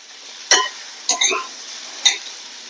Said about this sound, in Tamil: ஸோ நான் உப்பு போட்டுட்டு கொஞ்சம் புரட்டிட்டு